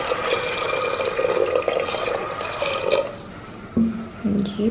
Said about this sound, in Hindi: और फिर इसमें डालेंगे पानी